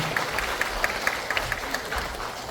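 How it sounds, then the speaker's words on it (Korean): Applause from an audience at a district office commemorative lecture in Seoul, with dense, steady clapping from a moderate-sized crowd continuing throughout at moderate distance. "따뜻한 격려의 박수 부탁드립니다"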